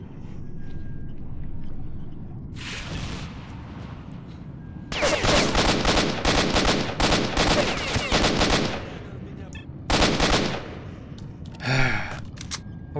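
Bursts of automatic gunfire in the video game S.T.A.L.K.E.R.: Shadow of Chernobyl, loud rattling volleys of several seconds separated by brief pauses, ending with a short final burst.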